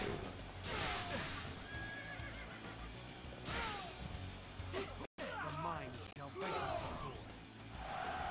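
Horses neigh loudly and gallop amid battle noise in Dynasty Warriors 6 on PS3, with shrill whinnies and hoof clatter over a busy soundscape of clashes, whooshes and voices.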